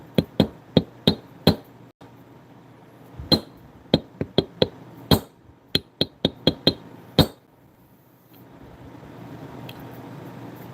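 A metal bar strikes a stuck part in a manufacturing shop, about fifteen sharp, ringing metallic blows loud and close, some in quick runs and some spaced apart, then a steady low hum of machinery.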